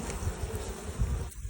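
Honeybees buzz loudly and close around an opened hive, a dense, wavering hum that swells and fades over a brief moment.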